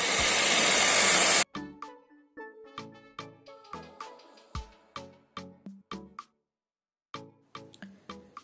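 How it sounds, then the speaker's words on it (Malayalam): An electric beater whirs loudly for about a second and a half while beating three eggs for a noodle omelette, then cuts off. A string of regular, sharp knocks and clinks follows, with a brief pause near the end. "ഞാനിപ്പോൾ ഇവിടെ ബീറ്ററാണ് ഉപയോഗിച്ചിരിക്കുന്നത്."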